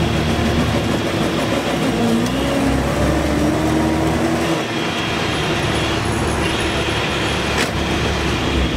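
A vintage Series 1 Land Rover drives along with a loud, steady engine drone and rough mechanical rumble that shifts slightly in pitch, heard close from inside the vehicle with no talking.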